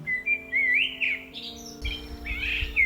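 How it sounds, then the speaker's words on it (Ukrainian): Birds chirp and sing in bright, warbling phrases, several calls overlapping at moderate loudness over a low steady background hum. "Послухайте самі, як виспівують ці пташки."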